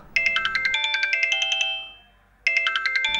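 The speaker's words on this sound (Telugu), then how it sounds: "ఫోన్ వస్తుందిరా" A mobile phone ringtone plays a bright, repeating electronic melody, pauses briefly, then starts up again, loud and close with no voices.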